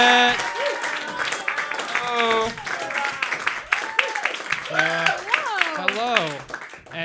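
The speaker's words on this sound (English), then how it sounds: "Start clapping right now for one of the best." Clapping from a comedy roast battle audience in New York mixed with cheering voices and excited shouts, continuous and fairly loud throughout.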